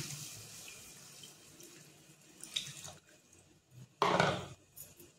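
Water poured into a pan of ground masala paste for an egg chutney, with a soft trickle at first and then a loud, close splash of pouring toward the end.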